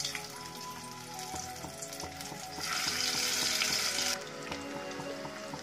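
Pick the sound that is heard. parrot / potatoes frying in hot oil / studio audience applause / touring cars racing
potatoes frying in hot oil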